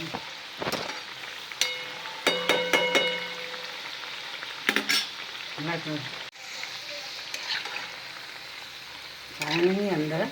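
Shakkarpara dough pieces frying in hot oil with a steady close sizzle, broken by clinks and stirring knocks and a few brief sliding scrapes.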